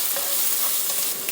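Steak Diane sauce, flambéed with Jack Daniel's in place of brandy, sizzles steadily in a pan at a solo camping cookout, a close, continuous hiss with light stirring and no voices.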